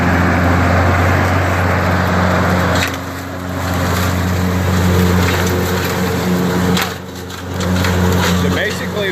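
Loud, steady drone of a Troy-Bilt yard tractor engine running with a double bagger attached, close by with brief dips in level and voices talking over it.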